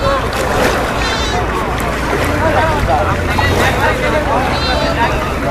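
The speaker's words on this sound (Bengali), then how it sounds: "ফার্স্ট গরু নিয়ে টলারটা আসলো" A trawler loaded with cows arrives on the Jamuna River, a loud continuous engine drone and water rumble with wind buffeting the microphone and people talking nearby over it.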